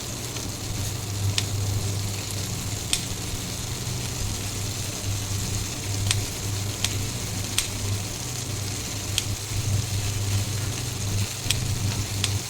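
Chopped green chilies, about four of them, sizzle in a frying pan with crushed ginger. The hiss holds steady throughout, with a faint low hum beneath it and a few sharp crackles, and no one speaks.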